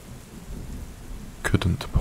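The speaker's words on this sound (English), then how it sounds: "Or was it the thunder?" Rolling thunder under a steady wash of rain, a low continuous rumble building into a few sharp, louder cracks and booms near the end of a stormy Scottish night.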